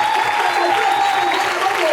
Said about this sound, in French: Est-ce qu'on peut acclamer très fort?